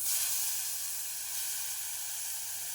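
Ground horse gram paste goes into hot oil for a village-style rasam, producing a soft, steady hiss of sizzling and steam that is fairly faint and uninterrupted by talk.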